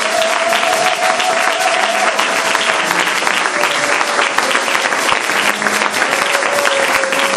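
A church congregation applauds and cheers in praise, a dense, loud, continuous wash of clapping with a sustained tone running through it, close and unbroken throughout.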